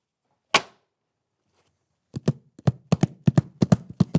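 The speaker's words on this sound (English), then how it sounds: "Oh, that's a horse." A single sharp knock, then a quick, uneven run of hard clopping taps like hooves on a hard surface, close and dry.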